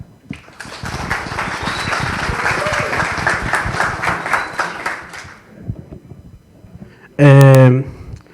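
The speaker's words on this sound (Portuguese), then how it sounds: "Uma salva de palmas para a nossa próxima palestra, então." An audience at a software design talk applauds the next speaker with a dense burst of clapping for about five seconds that fades out, followed by quiet and then a short loud tone.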